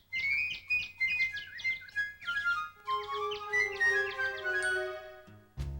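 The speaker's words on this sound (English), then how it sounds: "The bird is singing." A cartoon bird sings alone in quick, bright chirping phrases, first rapid trills and then longer sustained whistled notes, ending in a short low thump.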